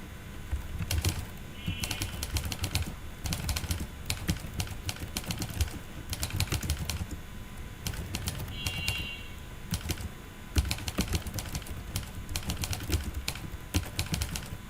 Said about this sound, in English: let's jump into typing master. Let's check my typing speed.